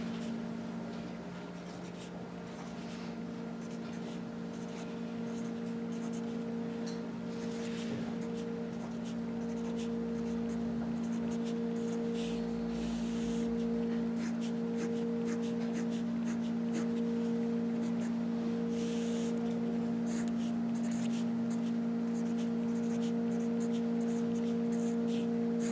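Pen on paper as tables are written out by hand, a soft continuous scratching heard over a steady low mechanical hum and room noise.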